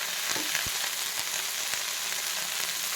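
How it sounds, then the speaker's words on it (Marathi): Crushed raw garlic cloves, five or six of them, frying in a pan with a steady, close sizzle and a few soft clicks and stirring taps. "कच्चा टाकते लसूण मी, हे लसूण टाकून घ्यायचं"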